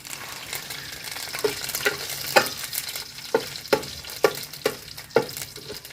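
Curry leaves dropped into hot oil for village-style moong dal rasam, a steady frying hiss punctuated by a run of crisp spattering pops and stirring clicks, close and loud with no speech.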